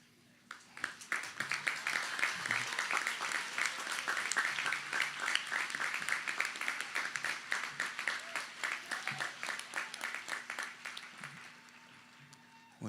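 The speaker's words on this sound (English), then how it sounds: "you guys already clapped" Sustained audience applause at the Bothell High School Class of 2022 graduation ceremony, dense steady clapping from a large crowd heard at some distance, rising then thinning out toward the end.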